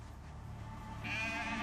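Sheep bleat in New Zealand farmland, a sustained wavering call over a dense background of other livestock, with no talk.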